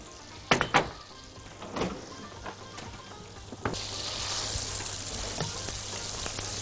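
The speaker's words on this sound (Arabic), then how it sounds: "وشكلناه وبدأنا ان احنا نسويه في جريل او طاسة تكون فيها معلقة زيت" A chicken burger patty sizzles in a little oil on a heated grill pan, with a steady frying hiss that swells partway through, punctuated by a few sharp clanks and taps of utensils against the pan.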